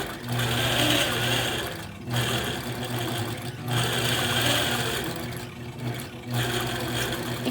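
Long arm quilting machine stitching through a quilt, a fast rhythmic mechanical whir that runs in bursts separated by short pauses, loud and close with no voices.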